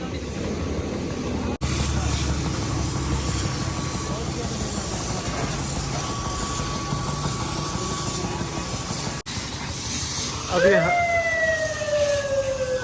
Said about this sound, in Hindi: अभी हवा के साथ में इसको ड्राई कर रहे हैं इंजन रूम को